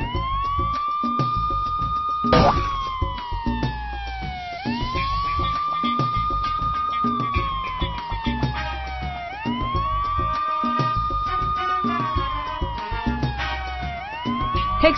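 Police patrol car siren in a Doki chase video game, a loud rising and falling wail repeating steadily over background game music, no talking.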